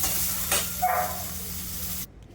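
Shallots and chopped large tomatoes sauté in a little oil for a chutney, giving a steady, close sizzling hiss that cuts off abruptly near the end.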